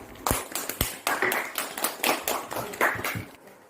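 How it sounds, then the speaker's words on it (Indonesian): A classroom of schoolchildren clapping for a group of students after their presentation, a scattered, uneven run of individual claps, fairly close and moderate in level. "Tepuk tangan untuk kelompok 3."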